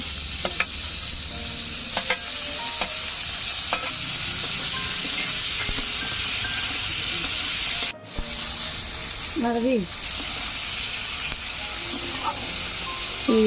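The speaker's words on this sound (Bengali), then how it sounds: "টমেটো ভাজা হয়ে গেছে" Tomatoes and onions frying in a pan for a Maggi dish, a steady close sizzle with scattered clinks of a spoon stirring, briefly broken by a cut and faint background voices.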